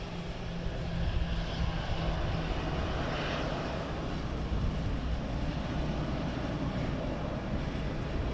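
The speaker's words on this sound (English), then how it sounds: "That sounds like the Apache display." An Apache helicopter flying a display near an airport produces a steady, loud rumbling engine and rotor drone that holds throughout without any break.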